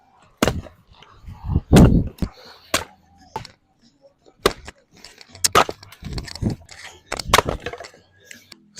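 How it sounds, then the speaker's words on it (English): Wood, including driftwood and dried bamboo, being split for a beach campfire: a series of sharp, irregular chopping cracks and knocks close by, with a person talking between strikes. "So I'm going to split some wood."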